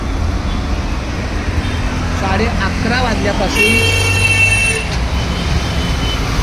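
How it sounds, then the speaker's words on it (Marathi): Busy road traffic with a steady roar of passing vehicles and a sustained horn honk midway, heard from inside or beside an auto-rickshaw while someone talks over the noise. "हे एवढ्या गाड्या येतात"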